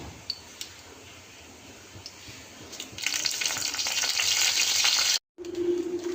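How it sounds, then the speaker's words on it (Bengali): Mustard seeds and curry leaves hit hot oil, bursting into a loud, dense sizzle and crackle that swells midway, near and steady, with a brief cut before a lower hiss resumes. "আর তেলটা দেখো গরম হয়ে গেছে, এর মধ্যে আমি সর্ষে ফোড়ন দিয়ে দেবো, তারপর দেবো কারি পাতা"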